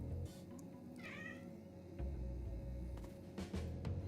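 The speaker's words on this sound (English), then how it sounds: "What do you want, cat? Beautiful kitty." A cat in the video game Final Fantasy XIV: Endwalker gives a short, rising meow over a quiet ambient background, followed by soft low thumps and faint game sounds.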